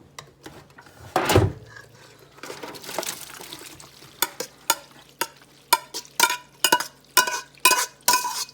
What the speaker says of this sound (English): And now I'm going to pour everything into the pan.